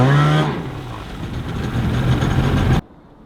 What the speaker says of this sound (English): At this point, the ski's running